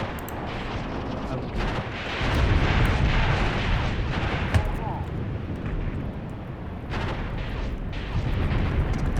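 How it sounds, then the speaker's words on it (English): Turret gunfire and explosions in a war video game about the Angolan Civil War. Dense, continuous rumbling booms and rapid shots roll on steadily with some louder bursts, under a noisy battle mix. "But let's hope that turret keeps shooting."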